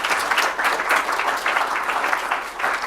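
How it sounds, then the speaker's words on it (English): An audience applauds steadily, a dense wash of clapping hands that holds at an even level throughout. "A big round of applause."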